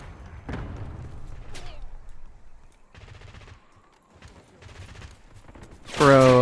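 Rapid gunfire and explosions in the Call of Duty video game, with close bursts of shooting and a sudden loud blast at the end, mixed with game background noise and someone talking.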